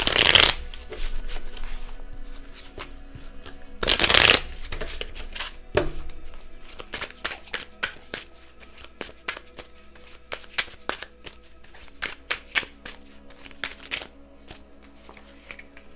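A deck of tarot cards is shuffled repeatedly, giving steady papery riffles and flutters with sharp snaps and taps between them, close and fairly loud, and no one speaks.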